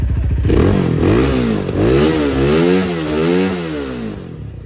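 A sport motorcycle with 890 km on it starts up and revs repeatedly, its engine note climbing and falling in loud, close waves of throttle with a mechanical clatter underneath.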